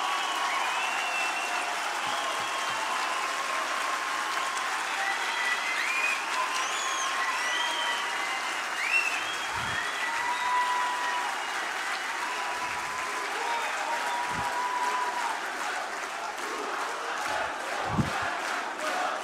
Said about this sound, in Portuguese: Que bom que vocês aplaudiram